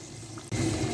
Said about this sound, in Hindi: 1 कप पानी का ऐड करेंगे।